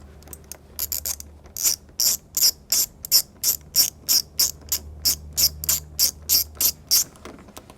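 A hand ratchet loosens 10mm bolts on the upper grille of a GM truck's front fascia: about twenty crisp, evenly spaced clicking bursts, close and clear, with a low hum underneath and no voices.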